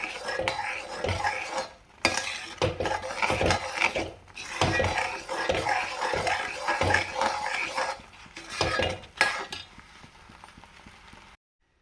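A spoon stirs jackfruit into thick coconut milk in a pan while making jackfruit halwa, giving repeated scraping and knocking strokes against the pan, close and fairly loud, with a few short pauses and no talk.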